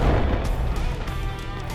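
A grenade blast in the mobile shooter Delta Force Mobile hits with a loud, deep boom at the start, then trails off into a rumbling, crackling wash of debris and battle noise.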